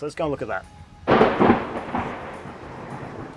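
A sudden loud thunder crack from a brewing storm bursts in just after a man's brief remark beside a car, then rolls away into a long, fading rumble.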